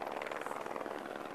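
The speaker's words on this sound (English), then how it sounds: "Helicopter coming in the background" A helicopter approaching a landing zone gives a steady, close rotor chop with a dense rhythmic thrum that holds constant throughout, with no talking over it.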